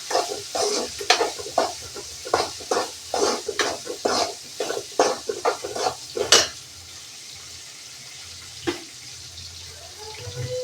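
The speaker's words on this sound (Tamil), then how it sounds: "வெங்காயம் நல்லா வதங்கணும்" Onions frying and being stirred in a pan while fish curry is cooked, a run of sharp scraping stirs over a soft steady sizzle, then mostly quiet sizzling with one more scrape near the end.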